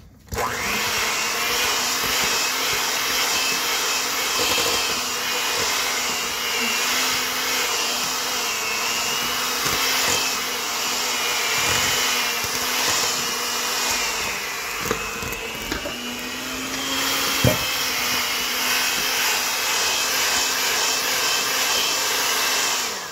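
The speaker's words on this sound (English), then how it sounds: "it's a good 5 to 6 minutes of mixing, steadily mixing, because we don't want any butter to show in the cookies" Electric mixer running steadily through cookie dough with butter, a loud continuous motor whine and hum lasting the whole stretch, with occasional small knocks against the bowl and no talking.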